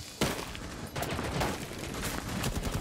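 Gunfire in a tactical shooter video game, several sharp shots and short bursts over a few seconds, fairly faint in the game mix.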